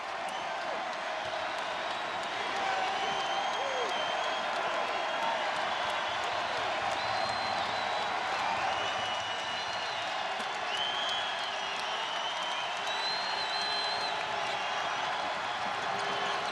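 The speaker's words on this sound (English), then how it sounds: "Crowd's back into it." Basketball arena crowd cheering and applauding during a game, a steady dense roar of applause and whoops filling the space at an even, loud level throughout.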